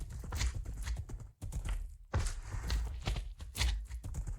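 Horse hooves clip-clop in a superflat Minecraft-style survival game near a village with wheat crops, a steady run of soft, close hoofbeats with short gaps and no talking.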